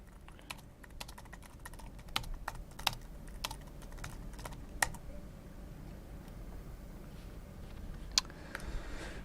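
Close, quiet clacking of a computer keyboard being typed on, irregular keystrokes with a few sharper taps standing out over a low room hiss.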